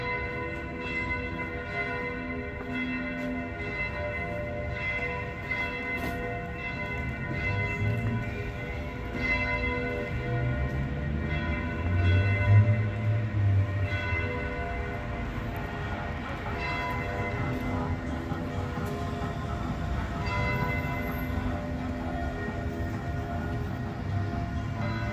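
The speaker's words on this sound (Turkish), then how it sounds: "Her gün duyuyoruz bu çan seslerini." Church bells ring out over Trieste, Italy, a continuous resonant peal of overlapping tolls that rises somewhat midway and carries on steadily with no voices.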